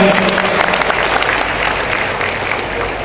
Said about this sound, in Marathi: त्याबद्दल जोरदार टाळ्या वाजवून आपण सर्वांचं अभिनंदन करूया.